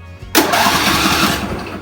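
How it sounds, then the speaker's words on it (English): A riding lawn mower engine is started with a key, a sudden loud catch into a roaring, steady mid-pitched running engine after a short quiet lead-in. "And this starts the engine."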